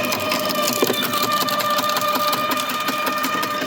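A Bosch garden branch shredder runs continuously at close range, giving a loud, dense mechanical whine with a steady tonal hum and a constant crunching, grinding texture and no pauses.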